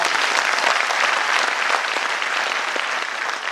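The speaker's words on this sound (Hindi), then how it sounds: "एक बार तालियां जरूर बनती है।" Sustained, dense applause from a seated audience at a leadership development programme, steady and loud throughout with no speech over it.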